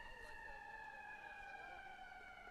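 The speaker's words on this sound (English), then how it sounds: "There's an ambulance that goes rushing across the road on" Ambulance siren rushing across a road near a cricket match in Chicago, a faint distant wail sliding steadily in pitch under a commentator's talk.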